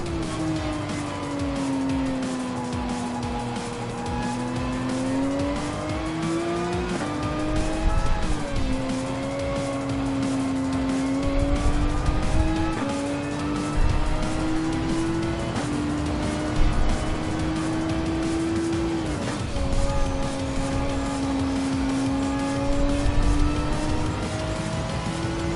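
A race car engine in a racing video game holds full throttle in fifth gear up Eau Rouge, producing a loud, sustained high-pitched drone whose pitch rises and dips with brief lifts and tyre scrub. There is no speech over it.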